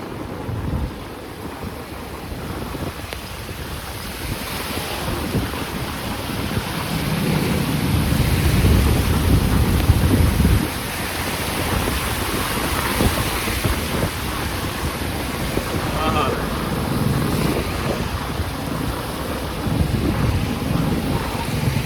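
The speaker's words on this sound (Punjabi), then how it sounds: "ਦੁਬਾਰੇ ਫੇਰ ਮੀ ਆ ਗਿਆ" Heavy, steady rain pours down with a dense hiss, while low rumbling swells underneath, like thunder or wind buffeting the microphone.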